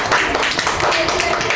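Schoolchildren in an Indian government primary school classroom break into a short burst of hand clapping, loud and close, with voices under it.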